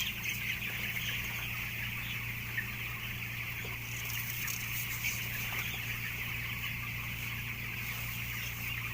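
Thirteen-day-old chickens cluck and peep softly as a group against a steady background hum, faint and continuous with no talking heard.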